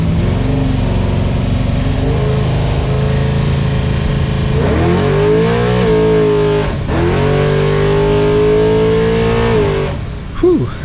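Street truck with a Holley 4150 carburetor pulling hard at wide open throttle, loud engine note rising through gears with a shift dip midway, heard from inside.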